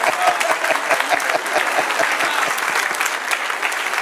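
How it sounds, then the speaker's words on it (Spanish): A church congregation claps in a steady, quick rhythm, many hands striking together on a regular beat, loud and continuous for several seconds. "Denle un aplauso al Señor."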